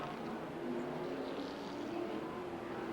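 NASCAR Slim Jim All-Pro Series race cars battling for the lead at Heartland Park Topeka in 1996, a steady distant engine drone at a road course, faint and continuous with a slight rising whine.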